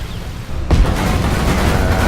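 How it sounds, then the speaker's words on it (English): A single loud cannon blast from an AMX-30 tank firing in Armored Warfare, a sharp close boom that gives way to a sustained rumbling roar. "But I believe it's an AMX-30 that starts shooting us."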